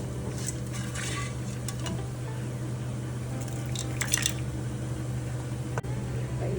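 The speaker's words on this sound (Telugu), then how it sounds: "ఇప్పుడు ఉడికించిన అన్నంలో ఈ పోపు వేసుకుందాము" Soft wet squishing and dripping as tempering is stirred into cooked rice for curd rice, quiet and close, with a steady low hum underneath and a few brief clinks.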